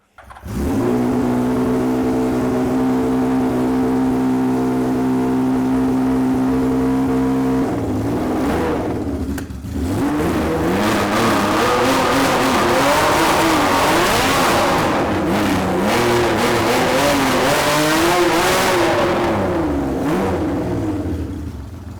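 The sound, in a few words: home-built race car engine revving loudly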